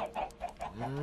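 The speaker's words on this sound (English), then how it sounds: "The chickens, as always, pester us as normal" Chickens in Minecraft give a quick series of soft, close clucks, several short repeated calls within about a second.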